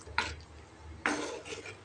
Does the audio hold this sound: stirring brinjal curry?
yes